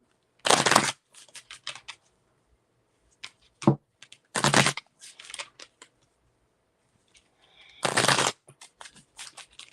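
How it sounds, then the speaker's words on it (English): A deck of tarot cards being riffled and shuffled in three loud, sharp bursts, with softer taps and card handling in between, close up in a quiet room with no talking. "Let me just shuffle for my other deck."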